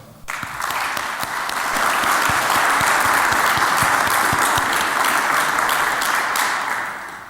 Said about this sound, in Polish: Brawa dla Państwa.